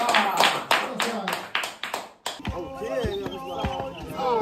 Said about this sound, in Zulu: Shaya izandla.